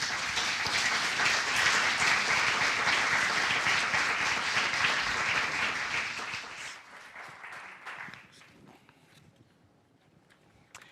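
Audience applause welcoming a speaker onstage at an evening talk, a dense steady clapping from a full room that fades out over the last few seconds.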